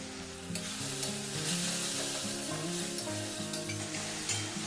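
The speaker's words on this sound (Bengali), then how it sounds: "এটা ভালো করে কষে নেব যতক্ষণ না এর থেকে তেল ছাড়ছে" Chilli powder, turmeric and Kashmiri chilli powder sizzle in hot oil in a pan for a banana flower dish, stirred steadily, with a loud, continuous frying hiss and soft scraping throughout.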